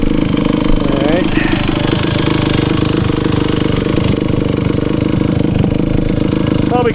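A 1974 Honda MT250 two-stroke enduro motorcycle idles close by, a steady loud rapid buzzing putter throughout, with a voice talking faintly over it.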